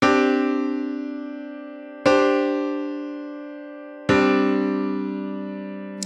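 A sus2 vocal harmony chord, with the third replaced by a second, sounded three times about two seconds apart; each chord starts sharply, rings as a rich sustained stack of tones, then fades slowly before the next.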